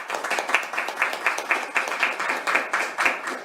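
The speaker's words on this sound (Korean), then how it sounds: "박수 한번 치세요." An audience at a prosecution reform debate in Korea claps in a steady, rhythmic pulse, moderately loud and slightly distant, with no speech over it.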